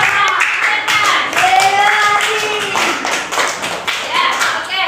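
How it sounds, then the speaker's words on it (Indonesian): A classroom of students clapping for a student group: a burst of close, lively hand claps, with a few voices calling out over the clapping. "tepuk tangan dulu untuk kelompok cerdas"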